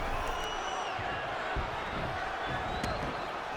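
A wrestling video game arena crowd roars continuously at a moderate distance, a dense wash of cheering with scattered thuds from the ring.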